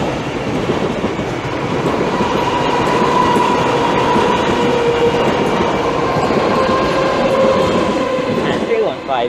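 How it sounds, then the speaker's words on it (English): A TfL Rail class 315 electric train passes at Bethnal Green on the line between London Liverpool Street and Shenfield, with a steady loud rumble and rolling wheel noise, plus a high electric whine and faint squeal as it goes by. "Now passing by is 2 Whiskey 20, the 1043 TfL Rail service from London Liverpool Street to Shenfield."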